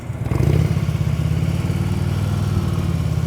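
A motorcycle engine runs close by during slow speed riding skills practice, a steady low rumbling putter that swells briefly as the throttle opens, then settles into an even idle-like chug.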